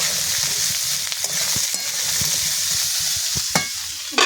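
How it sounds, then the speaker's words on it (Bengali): Onions and potatoes sizzle steadily in a hot pan for egg chop while a spatula scrapes and stirs them in irregular strokes; close, continuous frying with no talk. "পেঁয়াজটা দিয়ে কিন্তু আবারও এরকম করে নেড়ে চেড়ে নেব।"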